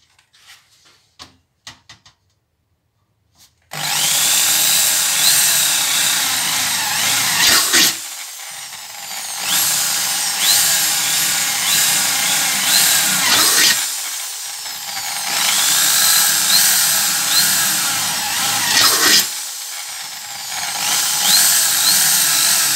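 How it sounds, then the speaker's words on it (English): A bandsaw cuts through a metal shell in long, steady, loud passes of grinding whine, broken by three short pauses, after a few quiet clicks at the start. "easy to put in the bandsaw and cut it in the correct position"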